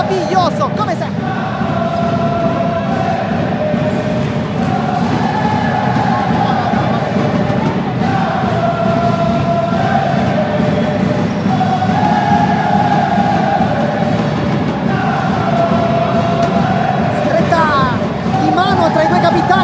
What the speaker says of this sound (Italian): il tifo da parte di entrambe le tifoserie,